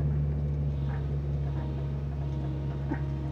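Steady low diesel rumble of a demolition vehicle engine idling and shaking at a house demolition site, a constant droning hum with faint mechanical rattles and no speech.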